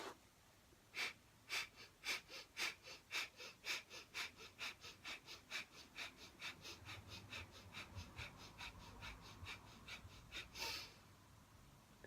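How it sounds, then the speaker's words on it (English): Breath of fire yoga breathing: a run of quick, forceful nasal exhalations, slower at first and then speeding into a rapid steady pulse, close up with no talk, ending in a longer breath. "inhale, stomach out, and breath of fire."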